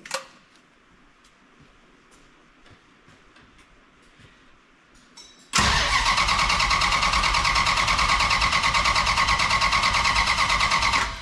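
Car engine starting attempt: after a quiet stretch with faint clicks, a starter cranks and the engine catches abruptly into a loud, steady, rough running roar that continues to the end.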